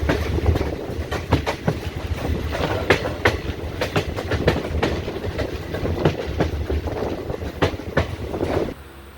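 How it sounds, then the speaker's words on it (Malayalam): Close and loud, a passenger train rolls into Haripad station on the Kayamkulam to Ernakulam line via Alappuzha, its wheels clattering over rail joints in a brisk repeating clickety-clack above a constant rumble before it cuts off abruptly. "ട്രെയിനിൻ്റെ അടുത്ത സ്റ്റോപ്പായ ഹരിപ്പാടിലേക്ക് ട്രെയിൻ എത്തിയിരിക്കുകയാണ്."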